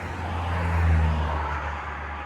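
A Massey-Harris 35 combine engine running at wide open throttle, a steady, loud low drone with a slight swell in the middle.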